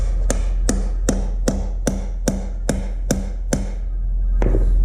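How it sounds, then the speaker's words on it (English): Nine crisp, evenly spaced hammer blows ring out one after another, each with a short metallic ring, over a low steady rumble. "Can I use your hammer, Wes?"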